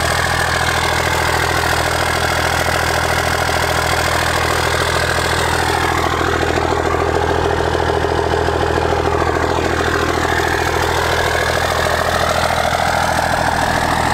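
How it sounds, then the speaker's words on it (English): A pickup truck engine idles with a newly straight-piped exhaust, a steady, loud, continuous rumble with a deep low throb that holds evenly throughout. "This is the first time it's been straight piped, at least to my knowledge."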